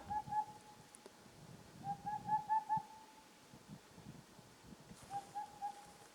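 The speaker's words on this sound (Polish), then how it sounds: "Ptak gdzieś tu koło mnie jest nade mną." An owl hoots repeatedly from somewhere overhead in a pine forest at night, its calls coming in short rhythmic bursts of several notes separated by pauses, moderately close against a quiet background.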